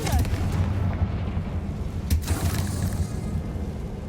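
A Confringo spell in Hogwarts Legacy goes off as a booming blast over a low rumbling background, with a sharp crack near the middle of the clip and no talk.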